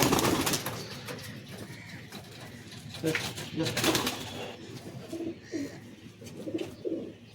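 Soft, repeated coos from a male pigeon among caged fancy pigeons, close and fairly steady against a noisy background, with a voice talking at times.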